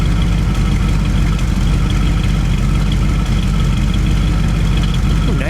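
A 1978 Ford Thunderbird's 400 V8 with dual exhaust idles steadily with a deep, even low rumble throughout, close by and continuous with no revving.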